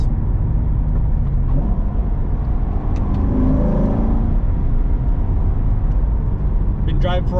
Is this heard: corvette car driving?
yes